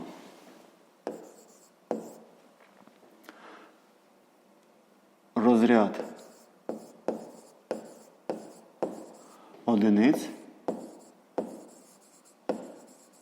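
Pen strokes on paper while working a fifth-grade math exercise, a run of short, regular scratchy taps and lines close up, with a couple of brief bursts of voice in between.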